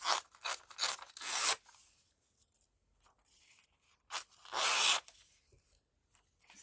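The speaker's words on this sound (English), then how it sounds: "This is actually quite tough paper. Good stamping paper. Can you hear that crunch?" Tough stamping paper torn by hand in several quick bursts, harsh crunchy ripping near and loud, with short tearing strokes early on and a longer crunching tear later, quiet pauses between.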